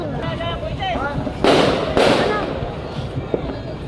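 New Year fireworks bursting nearby, two loud cracking blasts about half a second apart with whistling rockets before them, while people chatter and cheer underneath.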